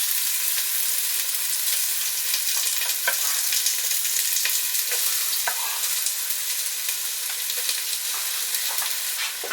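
Onions sizzle in a few tablespoons of hot olive oil, a bright continuous close-up crackle with occasional small pops, steady throughout with no talking.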